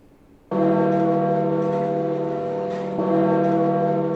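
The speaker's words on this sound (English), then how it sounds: "bells rang out from the Vatican to mark the pontiff's passing" A deep, resonant church bell tone from the Vatican starts suddenly and sustains with rich ringing overtones, struck again about halfway through, loud and close.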